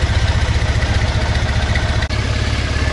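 A Triumph Bonneville motorcycle engine idles steadily close by, a loud, even throbbing with mechanical clatter and one brief dip near the end; no voices.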